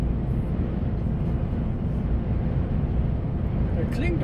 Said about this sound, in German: Schöner Motor ist das, der 480er.